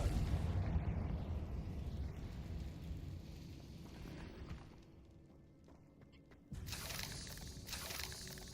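A fiery Confringo spell blast in Hogwarts Legacy, a rumbling burst that decays into a low roar, fades almost away, then returns with a sharp, bright crackle near the end.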